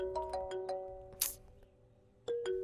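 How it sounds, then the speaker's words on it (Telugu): A mobile phone ringtone plays with a repeating chime-like melody, pauses briefly, then resumes, fairly clear and close with no talking over it. "మీకే ఫోన్ వస్తుంది"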